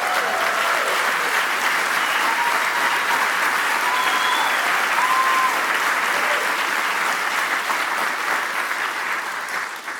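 Audience applause during a keynote address at a policy conference, steady dense clapping throughout with a few faint cheers, fading slightly at the end.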